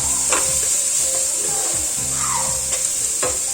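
Ground spices including turmeric, cumin and fennel powder sizzle and fry in a pan, with a steady hiss and a few distinct scrapes as a spoon stirs the masala, close and moderately loud.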